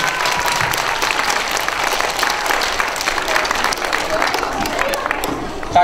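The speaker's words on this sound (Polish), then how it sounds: "Brawa dla pani Hani" Dense, sustained applause from a school audience after a children's stage performance, a steady wash of many hands clapping throughout, loud and full, with a bit of crowd murmur mixed in.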